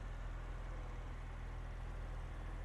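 A Porsche 911 Carrera with a six-speed manual runs steadily at idle, producing a dense, constant mechanical drone with a deep low hum and no change in pitch.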